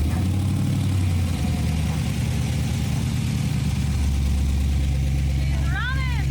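An LS-swapped 1979 Impala wagon engine runs close by with a loud, steady, deep idle and a rough throbbing rhythm that continues throughout. A brief voice cuts in near the end.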